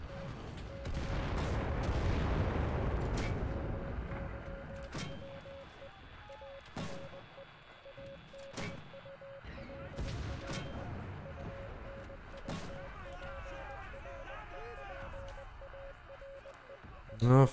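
Mortar shells fire and explode in a video game, with a booming launch and several sharp, spaced blasts over a steady hum, while someone talks over the action.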